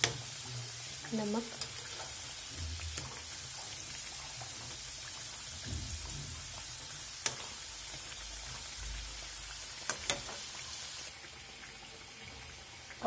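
Kachoris fry slowly in oil over a low flame, a faint steady sizzle with a few soft clicks and stirs, while a voice speaks briefly.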